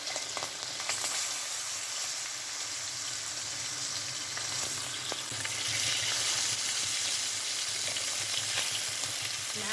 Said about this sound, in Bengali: দেখো আমার মাছ ভাজা কিন্তু হচ্ছে।